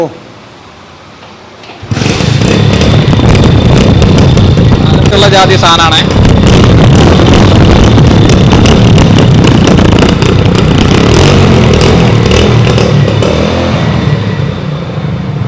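A used 2011 Hero Splendor motorcycle engine starts up and runs loud and close with a rough, steady idle and some revving, while someone speaks over it.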